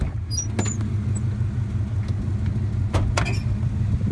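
A 1984 Chevrolet Monte Carlo SS with a 305 V8 cruises slowly through a cul-de-sac, its engine a low steady rumble heard from inside, with a few faint clicks and rattles.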